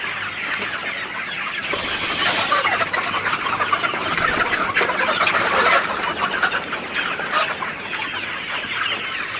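A crowd of chickens in a poultry house cluck and squawk continuously and busily, close and fairly loud, a dense overlapping chatter with no voices.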